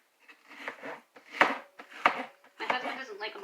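A knife minces onion for a crockpot chili, giving a few sharp, close chopping knocks spaced unevenly among softer scraping sounds and low voice-like murmuring.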